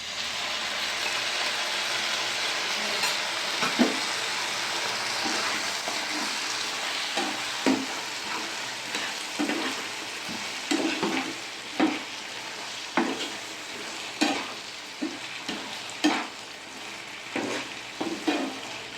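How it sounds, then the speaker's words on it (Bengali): Sauce is stirred into capsicum and onions frying in a pan for chili paneer, with a steady sizzle and repeated soft scraping strokes of a spoon, close and alone. "মিক্স করা হয়ে গেছে, আমি ঢেলে দেবো ক্যাপসিকাম পেঁয়াজের মধ্যে।"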